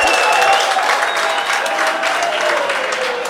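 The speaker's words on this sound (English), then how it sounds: "If you're hearing some loud claps in the background, it's some fans congratulating Bobesi there." A crowd of fans applauds during a pool match, the dense, steady clapping loud and continuous throughout with no pauses.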